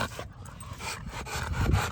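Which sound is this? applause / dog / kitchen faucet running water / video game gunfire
dog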